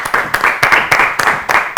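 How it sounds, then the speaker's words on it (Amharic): An audience applauds a contestant on a children's TV quiz show, bursts of loud, close hand-clapping pulsing in quick waves for a couple of seconds with no talk over it. "አጨብጭቡላችሁ እስቲ፣ አጨብጭቡላችሁ በደንብ"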